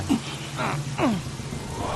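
Rain falling in a scene from a Telugu action comedy film, a steady hiss of rainfall beneath low, muffled tones and short gliding sounds, moderately loud and continuous throughout.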